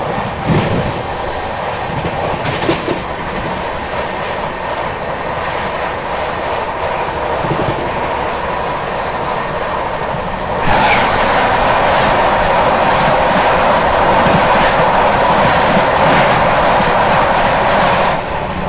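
Inside a moving train in India, steady rumbling wheels and carriage noise run continuously, swelling louder and brighter partway through as another passenger train rushes past close alongside.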